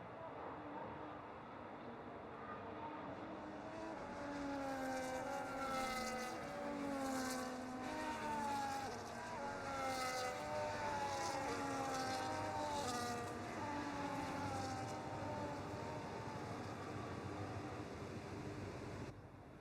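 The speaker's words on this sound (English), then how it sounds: "As the cars come back towards the grid to line up for the start of the race" Formula 1 cars from the F1 25 video game rolling back toward the grid before the Japanese Grand Prix, several engines whining and shifting pitch in overlapping waves, steady and moderately loud beneath a continuous commentary voice.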